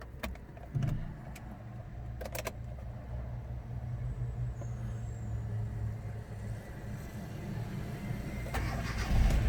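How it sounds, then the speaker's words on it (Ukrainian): A Hyundai Getz engine turns over on a cold start and settles into a steady, low rumbling idle, with a few clicks and clunks early on. "Автомобіль заводиться на холодно співобороти,"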